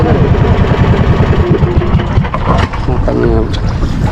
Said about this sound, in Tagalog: para ang makina, kumandar yung makina